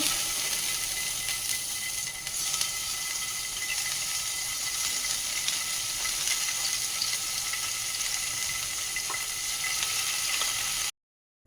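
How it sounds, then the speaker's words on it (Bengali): Paneer slices frying lightly in a pan, a steady, even sizzle that holds close and fairly loud for about eleven seconds before stopping abruptly. "তো আমি পনিরগুলো আগে হালকা ভেজে নিচ্ছি"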